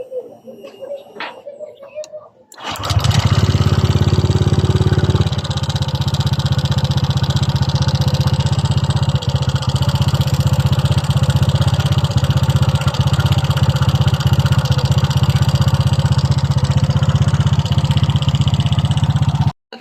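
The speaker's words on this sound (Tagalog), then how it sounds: "ito naman ang tunog ng kanyang makina guys" A Honda Click 125 scooter engine, not yet overhauled, starts after a few seconds, then idles loud and steady with a constant rattling throb until the end.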